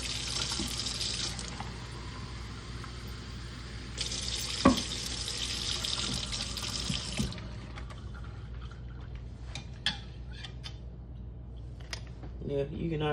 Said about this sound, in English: fill them up with water